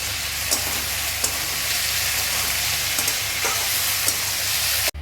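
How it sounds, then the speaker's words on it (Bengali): Sliced potatoes sizzle steadily in a pan as a mother fries them in a home kitchen, a close, continuous hiss broken by small pops and crackles, with no talking. "এখানে মায়ে আলু ভাজাটা করছে"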